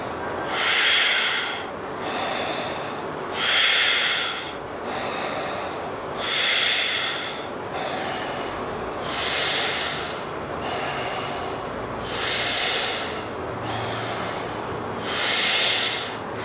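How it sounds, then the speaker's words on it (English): Audible breathing during a yogalates session, about nine slow, even cycles of loud, close, airy breaths pushed out through the nose and mouth in a steady rhythm, with no talking. "Breathing with sound."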